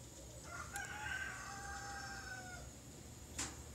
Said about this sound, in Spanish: Estos gallos por aquí cantan mucho.